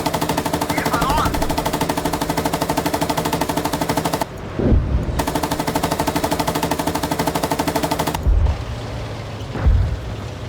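Sustained machine-gun suppressive fire in the PC tank game Gunner Heat, a rapid even stream of shots that breaks off twice, with booming impacts and a voice heard in the gaps.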